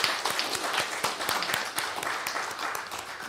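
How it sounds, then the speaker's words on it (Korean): A church congregation at a New Year Sunday service claps to welcome a family, a brief burst of brisk, evenly paced applause from a roomful of people. "우리 박수로 환영하겠습니다."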